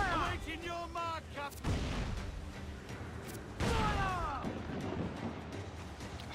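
Booming mortar volleys from a ship battle in Assassin's Creed 4 Black Flag, two heavy blasts a couple of seconds apart, each with a rumbling tail, mixed with game music and chatter.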